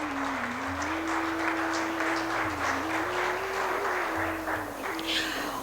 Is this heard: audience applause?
yes